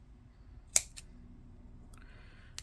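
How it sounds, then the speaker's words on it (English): A few crisp scissor snips cutting tape, close and fairly quiet, with a pause between the cuts and a faint low hum underneath. "that's where I'm gonna use the scissors"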